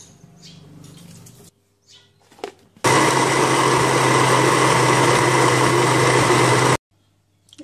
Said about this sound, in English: Put in half a cup of water to help in the blending process. Okay, then I'm going to blend it.